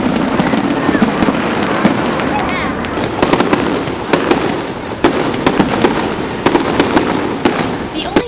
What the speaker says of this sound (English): This serves as a signal to the fireworks show that is about to start.